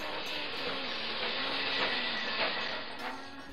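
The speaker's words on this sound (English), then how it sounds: "Grace and the children got on a busy train to Soweto." Steady rumbling rail noise from a moving train, a continuous broadband roar with a low hum running underneath, moderately loud and unbroken.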